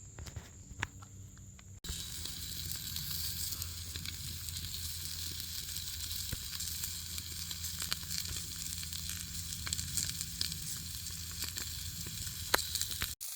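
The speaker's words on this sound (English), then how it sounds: "today I got a nice little New York strip, so I'm going to go ahead and put it on the fire" A New York strip steak sizzles in a pot over a campfire in the woods, a steady crackling hiss that starts abruptly and runs on continuously, with occasional pops and faint handling noises.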